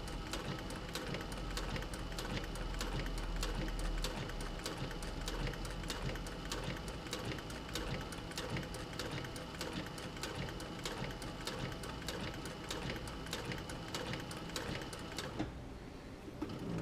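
A sewing machine stitches a leather camera bag in a rapid, steady mechanical chatter of needle strokes that runs close and continuous before stopping near the end.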